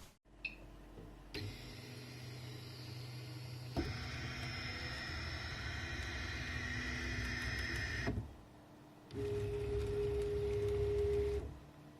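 A 3D printer fitted with TMC2130 stepper drivers runs a print job after a sensorless homing fix, giving sustained whirring stepper-motor tones that stop and restart in several distinct passes, one ending in a steady pitched whine, close and alone.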